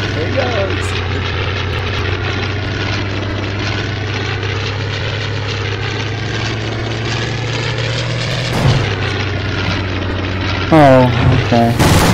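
Propeller airplane engine in a video game drones steadily and loudly throughout, a constant low hum with a brief bump near the end as voices react over it.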